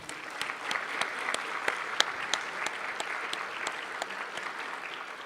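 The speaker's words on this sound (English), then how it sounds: "If you can all stand, and we'll give you a round of applause again." A round of applause in a legislative House Chamber, steady moderate clapping from a room of people with sharp individual claps standing out, continuing evenly throughout.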